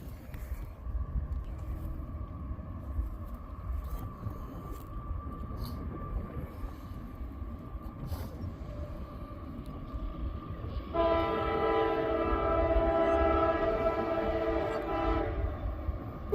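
A freight train rumbles past in the open for a sustained stretch. Partway through, its horn sounds one long, loud, steady blast over the rolling noise, then cuts off while the train keeps rumbling. No one speaks.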